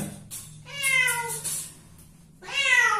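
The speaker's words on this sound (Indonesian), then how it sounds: "Ketika kucing seperti ini, kucing berteriak-teriak begini" A domestic cat yowls and meows while being bathed, two drawn-out, wavering cries loud and close, separated by a quieter pause with faint handling noise underneath.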